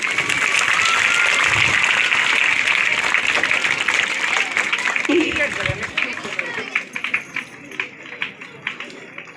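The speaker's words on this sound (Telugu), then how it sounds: "ఓకే, అందరూ చప్పట్లు మనం జరగాలి." An audience at a school function claps loudly and steadily for the principal, chairman and committee members, then the applause thins into scattered, fading claps.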